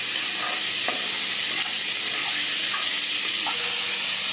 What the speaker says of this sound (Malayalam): സവാള ഇട്ടിട്ട് കുറച്ച് ഉപ്പ് കൂടി ഇട്ടു, അപ്പോൾ പെട്ടെന്ന് വഴണ്ടി കിട്ടും.